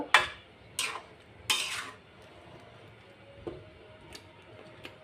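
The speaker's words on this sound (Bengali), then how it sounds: "দেখুন নেড়ে চেড়ে নিলাম" Raw green mango pickle, hot sweet and sour with the peel left on, stirred in a pan on a stove: three loud scraping strokes of a utensil against metal, then softer occasional clinks over a faint low cooking hiss.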